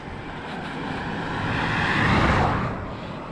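A Giant Explore E+ 3GTS electric bike climbs with its motor assisting in a stronger mode. A broadband whirring rush swells to a peak near the end, then eases, with no voices.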